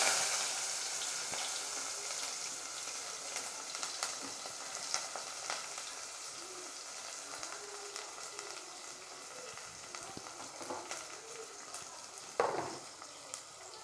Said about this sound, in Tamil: கருவேப்பிலை, பூண்டு போட்டாச்சு, அதுலேயே நல்லா வதங்கட்டும்.